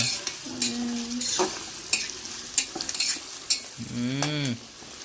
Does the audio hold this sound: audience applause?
no